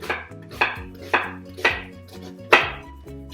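Onions chopped on a cutting board with a knife: six crisp, evenly spaced chops, close and clear over faint background tones, with no talking.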